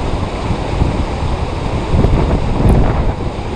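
Steady wind buffets the microphone beside a small mountain stream in Wyoming, a continuous broadband rush with slight gusts swelling near the end, no voices.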